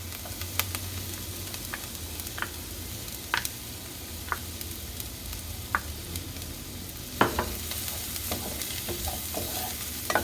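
Chopped garlic and browning onion fry in a pan with a continuous, close sizzle, punctuated by scattered ticks and scrapes of stirring and a louder knock about two-thirds through.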